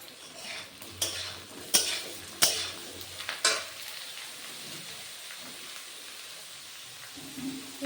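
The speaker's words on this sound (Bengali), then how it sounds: "বেগুনটা আর আলুটা একটু ভাজা ভাজা করে নেব।" Potatoes and eggplant fry in a pan while a utensil scrapes and clinks against it in a few sharp knocks, over a quiet, steady sizzle.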